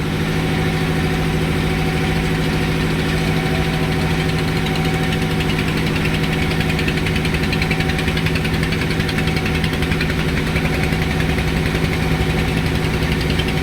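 A steady boat engine drones continuously at close range on a river, a constant low hum with a mechanical whine, with no voices over it.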